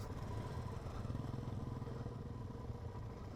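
Suzuki DR-Z4S motorcycle engine idling with the clutch let out, a steady low, even putter held at close range with no change in revs.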